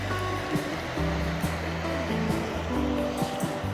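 Steady rushing water from a river flowing past a sandbar and small beach off Highway 21 in Idaho, a continuous broadband wash with a faint hum beneath it.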